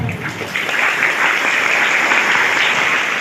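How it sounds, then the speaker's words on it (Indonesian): Elementary school students at SD Nurul Haq in Batam applauding, a loud, dense round of clapping from many small hands that swells after a brief start and stays full throughout. "Nah, tepuk tangan dulu semua"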